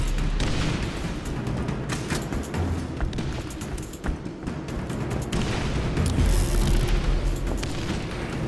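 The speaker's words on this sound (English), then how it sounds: "That explosion hit me. I was behind a wall." An explosion in the video game Borderlands gives a loud, dense roar of rumbling blast noise that holds for several seconds with a few sharper cracks inside it.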